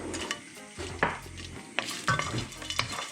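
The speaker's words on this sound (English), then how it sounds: "when the olive oil is warm we drop in the pan a couple of pieces of garlic" Garlic pieces drop into warm olive oil in a pan, giving a soft, close sizzle broken by stirring scrapes and light clinks of a utensil against the pan.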